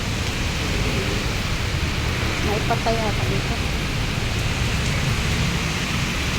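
Heavy rain pours as a steady, loud broadband hiss through the whole stretch, with someone talking briefly over it partway through.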